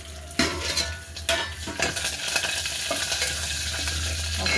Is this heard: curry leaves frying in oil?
yes